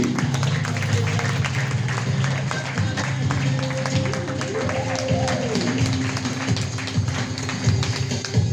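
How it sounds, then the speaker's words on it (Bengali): Loud, sustained clapping from a large audience runs unbroken throughout, with voices heard over and through it. "জোরদার একটা হাততালি"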